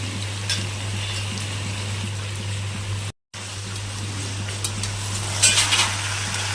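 Pasta being fried and stirred in a pan, a steady sizzle with faint scraping strokes over a constant low hum, louder clatter near the end, no voices.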